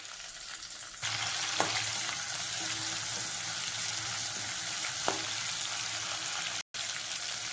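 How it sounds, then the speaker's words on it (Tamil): Tomato and coriander leaves sautéing in a pan for a mutton or beef sukka, a steady frying sizzle that starts abruptly after a quiet moment and runs on, with a couple of faint clinks and a brief dropout near the end. "இப்போ தக்காளி நல்லா வதங்கணும்."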